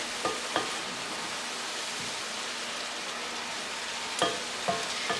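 Carrots, onions and celery cooking in a hot pan over raised heat, a steady hissing sizzle with a few sharp utensil clicks near the start and end, no talking.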